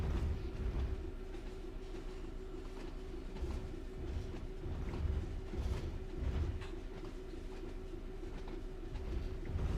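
A Class 66 diesel locomotive in Train Sim World rolls along with a steady low rumble and faint rhythmic clickety-clack of wheels over rail joints, continuous and even throughout.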